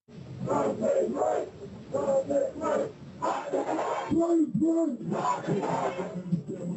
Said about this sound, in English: the gathering crowd begins to take the shape of a full-fledged protest